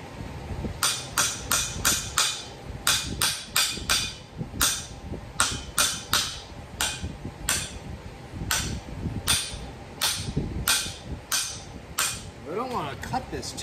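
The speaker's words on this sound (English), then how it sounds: "Try with a hammer first." Steady sharp metallic hammer blows on the steering column of an old Ford F1/F100 truck, rapid bursts of close, ringing strikes with short pauses and some talk in the background.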